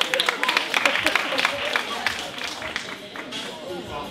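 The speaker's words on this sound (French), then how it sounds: "On peut l'applaudir un peu." Guests at a birthday party magic show clap briefly, giving loose scattered applause from a small group mixed with chatter and room noise, thinning out toward the end.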